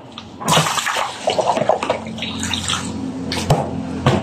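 Water poured and splashed into containers while refilling chickens' water in a backyard poultry setup, with irregular close splashes and trickling bursts and no talk.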